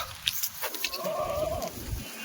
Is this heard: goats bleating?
yes